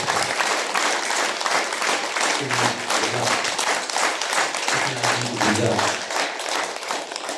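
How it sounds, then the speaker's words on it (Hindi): A large crowd at a Prabhu Kripa Dukh Nivaran Samagam gathering in Pune claps steadily, a thick sustained applause, while a voice briefly speaks underneath it in a couple of spots. "इसके बदले ताली मारो"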